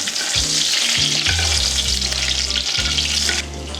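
Skin-on salmon sizzles steadily in a hot pan as it is basted with thyme, a loud continuous frying hiss broken by spoon scrapes and stirring knocks, with no voices.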